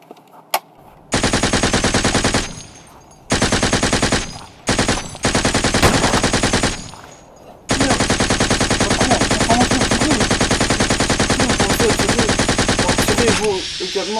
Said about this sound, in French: Ok, c'est bon, commencez à tirer.